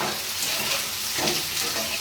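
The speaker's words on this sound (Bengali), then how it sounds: "নাড়াচাড়া করে দিই" Capsicum and onions are stirred in a hot pan for chilli paneer, a dense, close sizzle with soft scraping swells as the spatula moves through them.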